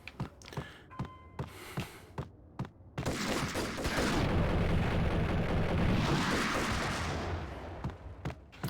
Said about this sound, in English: those guys grenaded me